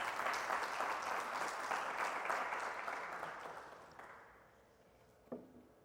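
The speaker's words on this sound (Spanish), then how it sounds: "Vamos a dar la ofrenda de palmas" A church congregation claps together in a loud, sustained round of applause that gradually fades out, ending with a single sharp knock near the close.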